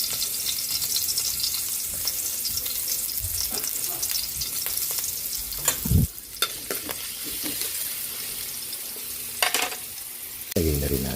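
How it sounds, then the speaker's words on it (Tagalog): Garlic sautéing in a frying pan for a Filipino vegetable pakbet-style dish, a steady sizzle and frying hiss running throughout with occasional stirring clatter and a few sharper bumps from the pan. "Magigisa na tayo. Lagyan na natin yung ating bawang."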